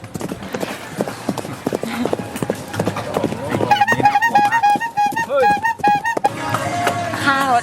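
Carriage horse on Gili Trawangan, Indonesia, its hooves clip-clopping in a steady trotting rhythm close by, with people talking and laughing over the hoofbeats and a jingling bell in the middle.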